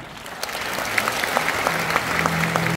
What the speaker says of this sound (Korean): 박수도 쳐주시나요?